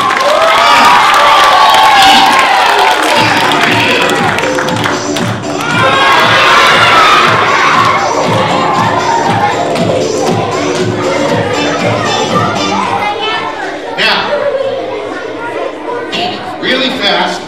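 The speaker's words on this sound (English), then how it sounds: "How about a nice round of applause for our friend?" Children at a school fire safety assembly break into loud, sustained cheering and shouting mixed with clapping. The crowd noise swells and ebbs for the whole stretch, close and energetic, with scattered thumps.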